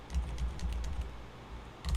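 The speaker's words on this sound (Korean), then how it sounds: "제가 여기다가 입력을 하고 키보드를 누르면" Fast, soft clicking of keys on a computer keyboard, a steady run of light taps close by with a short burst at the end and no voices.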